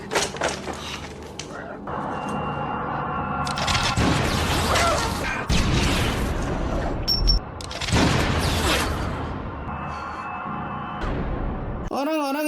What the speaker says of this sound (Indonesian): kemudian bersiap menembak dan terjadilah adegan baku tembak antara si Umi dan juga si Andre di sana.